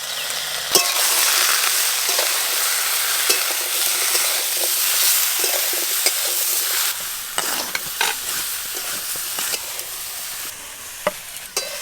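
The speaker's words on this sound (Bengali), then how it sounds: "এবার আমি সব সবজি একসঙ্গে ভালো করে ভেজে নেব।" Mixed vegetables fry together in a pan for a Bengali neem jhol dish, making a steady loud sizzle with repeated scraping stirs and clicks of the utensil against the pan.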